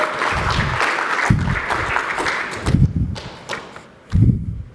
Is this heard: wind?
no